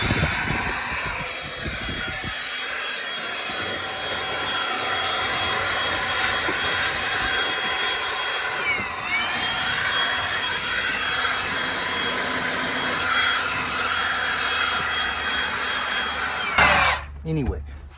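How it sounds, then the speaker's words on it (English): An air blower runs loud and steady for car vent detailing, a continuous whooshing roar that starts abruptly near the beginning and cuts off just before the end. "usually you're going to come in with a brush and a blower."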